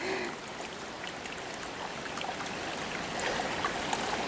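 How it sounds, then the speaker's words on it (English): A stream of water runs across a hiking trail at the Big East Fork trailhead, giving a steady, close rushing and babbling wash that continues evenly with no voices. "River runs right through the path."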